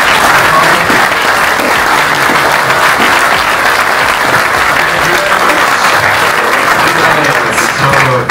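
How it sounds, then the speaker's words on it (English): Loud, sustained applause from a large conference audience welcoming a speaker in Ireland, dense clapping filling the room without a break for the full stretch. "So big round of applause"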